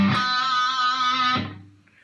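An electric guitar plays a short riff from a song, a sustained distorted note ringing clearly before cutting off and fading to near silence.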